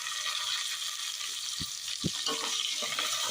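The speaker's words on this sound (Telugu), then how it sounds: "ఇవి కూడా గోల్డెన్ బ్రౌన్ కలర్ వచ్చే వరకు ఫ్రై చేసుకోవాలి" Onions and green chilies fry in a pan, giving a steady, bright sizzle with a few soft stirring knocks partway through.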